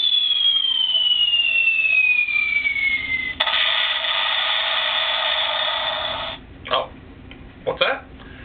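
A cartoonish explosion sound effect: a long descending whistle falls into a loud, sustained rushing blast, followed by a few short, sharp bursts.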